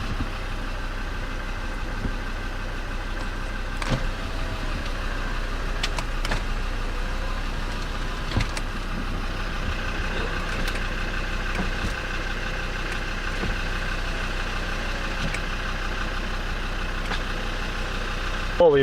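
Land Rover Discovery 2 engine idling steadily nearby, a continuous low hum with a few faint clicks and knocks, no speech over it.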